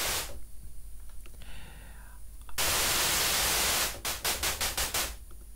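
Noise oscillator from the Alchemy synth in Logic Pro: a faint hiss at first, then a loud sustained burst of broadband static, followed by a rapid series of short, evenly spaced noise pulses.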